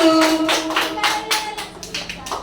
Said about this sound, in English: Clap for Yamin and Zinat.